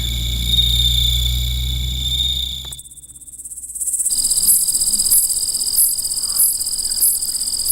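Bell crickets, a kind of cricket, chirping loudly and steadily at night, a high continuous trill that drops out briefly and returns with rhythmic pulses.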